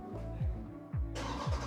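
Repeated low engine cranking from a 2023 Dodge Durango SRT, with three descending starter sweeps before a bright burst as the engine catches, heard close.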